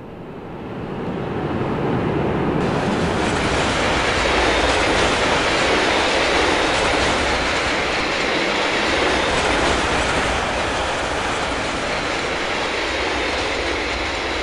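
A BR 151 electric locomotive hauls a train in Train Simulator 2016, a loud, steady rumble of running gear and rail noise with clickety-clack and faint wheel squeal, continuous throughout without talking.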